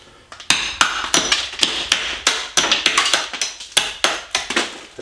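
Hammer drives a chisel against a tile backsplash in a string of sharp, loud metallic strikes, irregular but rapid, each ringing briefly before the next blow, with no talking.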